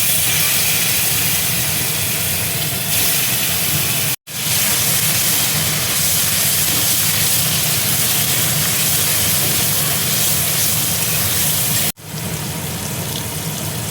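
Boiled banana flower tipped into a hot pan of oil with nigella seeds and fried chilli sets off a loud, steady sizzle that runs throughout, broken by two brief dropouts.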